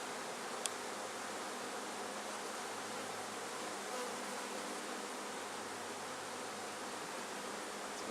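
A dense swarm of bees gathered on a rock near a hive makes a steady, even buzzing drone that stays close and continuous throughout, with no voices over it.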